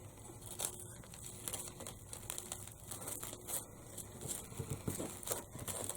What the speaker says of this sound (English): I can tuck that Spanish moss in now.